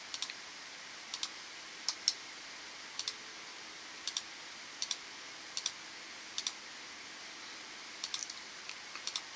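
A computer mouse clicks sharply and repeatedly, quiet and close, in short single and double taps with gaps between, while lines are being picked in CAD software.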